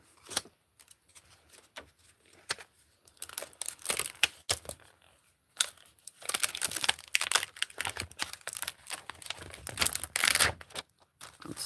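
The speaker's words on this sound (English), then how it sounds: "Sorry if crinkling noises mess with anybody." Paper and plastic crinkle and rustle during Christmas card making with a stamp, continuous close handling noise with sharp bursts that grows louder and denser toward the end.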